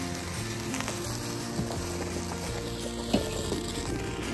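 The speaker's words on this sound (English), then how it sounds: "So this is what the water looks like so far, boiling up." Water at a full rolling boil in a pot on a stovetop for a pineapple detox drink, giving a steady, dense bubbling and hissing roar throughout with no talking.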